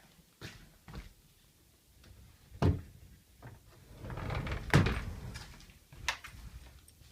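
A stuck closet door being forced open indoors: a series of faint, irregular knocks, bumps and rattles spread over several seconds, with a slightly louder cluster of scraping thuds in the middle and no talking.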